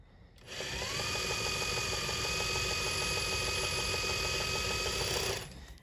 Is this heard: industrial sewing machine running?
yes